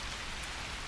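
Steady rain falls on a hard surface, a dense, even patter of drops at close range with no pauses, heard alone without voices or thunder.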